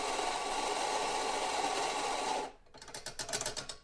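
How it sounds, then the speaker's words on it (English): Rocky coffee grinder grinding coffee beans at a medium setting: a dense, loud motor whir with crunching for a couple of seconds, then stopping abruptly into softer scraping and tapping sounds. "we've got the grinder and it's set to about an 8 at the minute"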